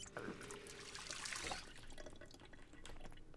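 Water splashes and trickles from a running tap, a brief louder gush followed by lighter dripping and clicks, close and alone; drinking from a tap in the video game Project Zomboid.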